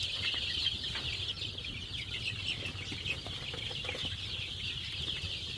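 Farm chickens cluck and murmur steadily at a moderate distance on a hot day, a continuous low flock chatter with a bright high background hum and no one speaking.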